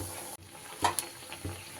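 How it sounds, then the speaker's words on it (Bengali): Flat beans fry two at a time in hot oil in a pan, giving a soft, close sizzle with a few brief crackling bursts over a short stretch. "দুটো দুটো করে আমি এইভাবে ফ্রাই করে নেব"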